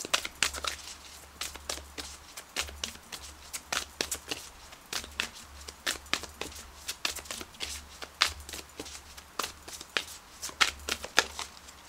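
Moonology oracle cards being shuffled by hand, a steady run of quick papery riffles and soft slaps repeating close up and fairly quiet, with no talking.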